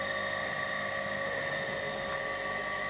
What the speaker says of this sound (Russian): Включаем станок.